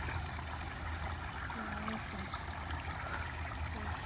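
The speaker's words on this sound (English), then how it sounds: "I like the sound of the water." A stream flows and babbles steadily at Bonnet Springs park in Central Florida, a soft continuous rush with no voices over it.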